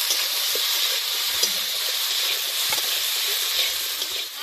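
Green banana pieces frying with salt and turmeric give a steady, close sizzle and hiss, with occasional crackles and stirring scrapes throughout.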